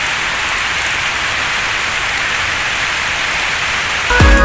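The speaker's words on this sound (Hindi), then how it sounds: "बहुत ज़्यादा बारिश होने लगा है।" Heavy rain pours steadily in a dense, even hiss throughout, with a brief louder clatter right at the end.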